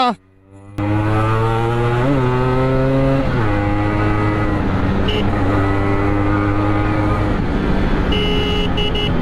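A Yamaha RX100 two-stroke motorcycle engine catches after a brief sputter, then revs loud and close with a buzzy, rising-and-falling drone and sharp throttle blips, steady for the rest of the clip.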